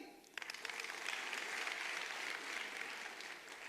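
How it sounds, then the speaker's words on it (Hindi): A sudden burst of enthusiastic applause from a crowd, clapping steadily and loudly for several seconds before easing slightly. "जोरदार ताली।"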